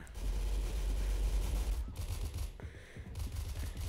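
Rapid bursts of gunfire from the Roblox shooter game Arsenal fill the first two seconds loudly and continuously, then break into sparser shots with short gaps before the firing picks up again.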